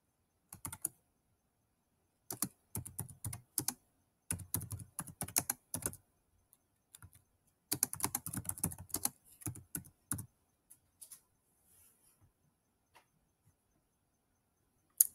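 Someone types a file name on a Chromebook keyboard, with short bursts of soft, quick key clicks separated by pauses, close and quiet, with no talking.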